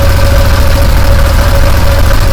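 A Massimo Militia 1000 UTV engine idling steadily up close, a loud, constant low rumble with a faint steady tone, no speech.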